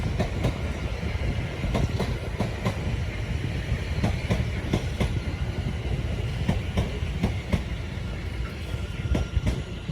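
A London Overground class 710 electric train passing at Bushey station, with a steady rumble and repeated clickety-clack of wheels over rail joints, loud and close throughout.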